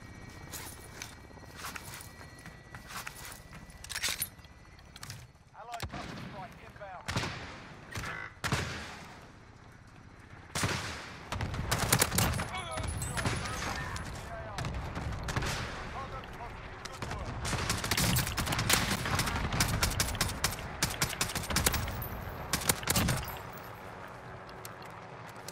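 Rapid bursts of gunfire in a Plunder match of a shooter video game, dense volleys and single shots of varying loudness with brief lulls, running through most of the stretch.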